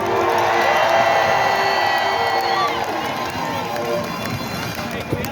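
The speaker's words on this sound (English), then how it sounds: "Give them a round of applause, please" A large outdoor crowd at a Boston rally claps and cheers with sustained, dense applause and whoops, loud and enveloping, with voices mixed in.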